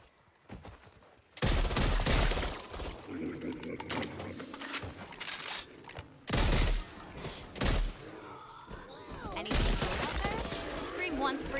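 Shotgun blasts in the Back 4 Blood video game, loud close bursts fired in several clusters separated by quieter gaps, with chaotic game noise between shots.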